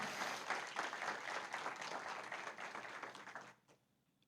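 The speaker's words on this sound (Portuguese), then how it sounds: "Mais palmas que vocês merecem." A company event audience applauds steadily for nearly four seconds, a dense continuous wash of clapping that cuts off abruptly near the end, leaving quiet.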